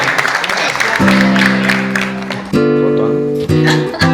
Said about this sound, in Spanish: Un aplauso para Homero, un aplauso para Antonio y para César.